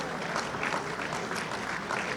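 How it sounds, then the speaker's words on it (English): Applause for state officials at a Greek Independence celebration in the Ziegfeld Ballroom, a brief, even burst of many people clapping, moderately loud and steady. "A round of applause for our state officials that are working very, very hard."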